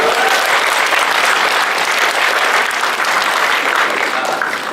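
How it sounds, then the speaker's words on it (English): A forum audience at UiTM Sabah breaks into dense, steady applause, loud and continuous, with some crowd voices mixed in throughout. "Round of applause."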